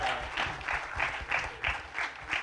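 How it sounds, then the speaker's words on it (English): An audience at a series trailer launch event claps for the parents, with a steady, moderately loud burst of applause from a crowd that pulses slightly throughout. "So let's have a huge round of applause for All the parents."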